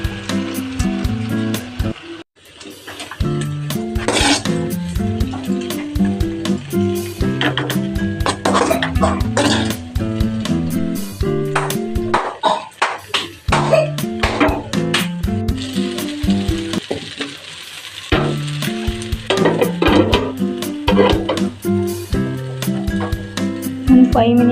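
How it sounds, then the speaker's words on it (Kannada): Poha, flattened rice, is tipped into a pan and stirred, producing repeated scraping and rustling strokes with a soft sizzle underneath, close by, while a voice talks now and then. "ಈ ಅವಲಕ್ಕಿಯನ್ನು ಸೇರಿಸ್ಕೊಳ್ಳೋಣ."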